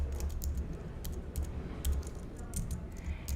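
Fingers typing a password on a computer keyboard, a close run of irregular key clicks in quick bursts with short pauses, no talk.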